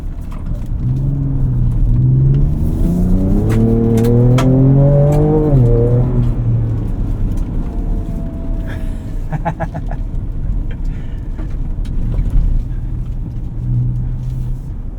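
A 2024 Ford Ranger Raptor in 4 auto surges hard off-road, its engine revving up in a rising, loud run before easing back to a steady rumble, with the driver speaking briefly over it.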